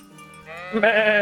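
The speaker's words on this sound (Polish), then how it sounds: "To owca, a nie koza." A single sheep bleats in the medieval video game Kingdom Come: Deliverance, a close, wavering call that starts soft and swells louder toward the end, with no speech.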